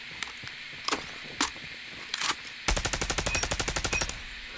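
Dingo light machine gun in COD Mobile, a few scattered single shots, then a rapid, steady automatic burst of about fifteen rounds, loud and close.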